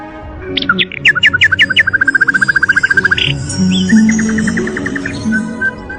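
A small bird lets out a fast run of bright, close chirps that settle into a rapid, even trill, followed by softer, scattered calls.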